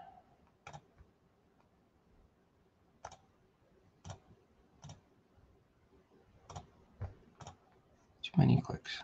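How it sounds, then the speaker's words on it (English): Mouse clicks while working in CAD software: sparse, sharp single clicks spaced irregularly a second or two apart, close and quiet against low background hum, ending in a brief louder burst of handling noise. "Too many clicks."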